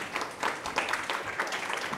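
Audience applause at a fashion talk event as a guest is welcomed to the stage, a short burst of fairly soft, uneven clapping from a modest crowd.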